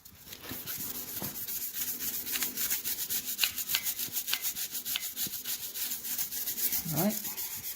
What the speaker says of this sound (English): That means we keep scrubbing.